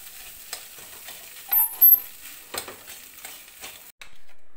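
An egg fries in a pan for fried rice, a steady close sizzle broken by scraping stirs and a couple of louder bursts before the hiss fades.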